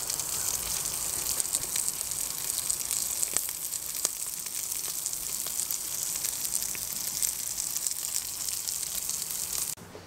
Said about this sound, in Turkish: Beyler bunu birazcık kızartayım mı, böyle mi yeriz?